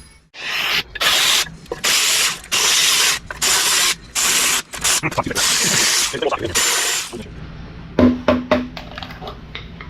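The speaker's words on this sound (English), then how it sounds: "Let me pull this balancer puller off, and we'll start with the timing cover bolts and get the pan off." A ratchet wrench removes the balancer puller and timing cover bolts from a 1970 Chevelle engine. Several loud, close bursts of rapid ratcheting are separated by short pauses, followed by softer metallic clicks and taps.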